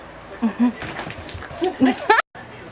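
A pet dog named Shea gives several short high whimpers and yips, close by, mixed with a person's voice calling and giving commands.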